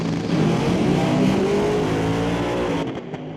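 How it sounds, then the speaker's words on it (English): Two drag racing cars, a Roots-blown Hemi and a twin-turbo, roar loudly down the strip together in a dense sustained engine blast that cuts off abruptly near the end. "Roots blown Hemi in the right lane, twin turbo in the left."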